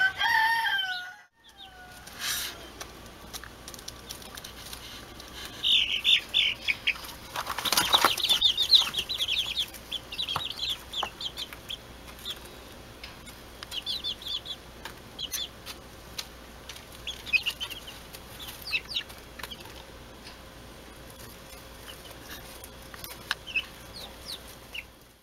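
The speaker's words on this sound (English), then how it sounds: "This is where we have a large chicken run, and then we have two coops." Chickens in a large backyard run with two coops, clucking and chattering near and far, a rooster crowing, and a brief burst of wing flapping partway through.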